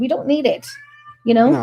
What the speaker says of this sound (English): So that's my cat.